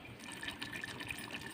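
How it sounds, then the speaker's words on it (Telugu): Soaked small-grain rice pours into a pot of prawn biryani masala, a soft wet rustle and patter lasting about a second and a half, faint and close. "ఈ బియ్యం ఇప్పుడు అందులో వేసేసుకుందాం"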